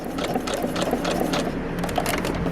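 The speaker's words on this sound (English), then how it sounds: "I'm using contrasting thread here, and I'm just gonna stitch along outside edges" A sewing machine stitches contrasting thread along the outside edges of an applique car mat block, a steady, close, continuous mechanical whir with rapid needle ticking and no talking.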